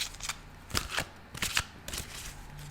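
Tarot cards are shuffled by hand in a quick run of crisp riffling bursts, some sharper than others, close and clear with no talking.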